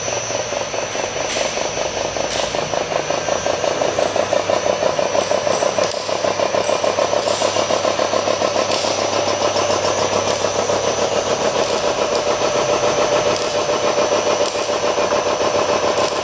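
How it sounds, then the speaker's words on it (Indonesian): An air compressor on a powder coating machine hums and chugs steadily with a rapid pulsing rhythm, running continuously at close range without any voices. "Ini hidupnya untuk kompresornya"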